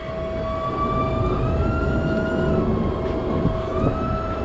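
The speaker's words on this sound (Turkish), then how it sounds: "Tren geliyor." A train approaching along a track in Sofia, Bulgaria, a steady rumble with a sustained horn-like tonal whine rising over it, loud and continuous throughout.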